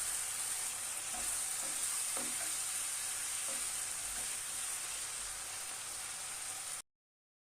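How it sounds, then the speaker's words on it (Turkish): A tomato sauce seasoned with chili flakes and black pepper bubbles and sizzles in a pan under a steady hiss, with faint soft stirring sounds, until it cuts off abruptly near the end. "yeteri kadar tuz, bir tatlı kaşığı pul biber ve karabiberini ekleyip sosumuzu güzelce karıştırıyoruz"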